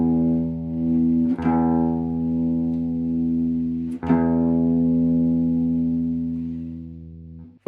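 An electric guitar's open strings ring out in long sustained tones while being tuned through a tuner, with two distinct fresh plucks and a slow fade between them, close and alone.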